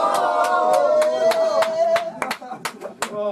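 A few people clap for a freestyle rapper at a hip hop event, with scattered sharp claps spread across the moment while voices talk and call out over them.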